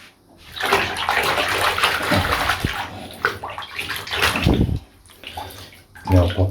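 Running water from a tap rinses jewelled mermaid doll hair pieces, a loud, steady gushing stream with brief sloshing and splashing as the pieces are moved beneath it.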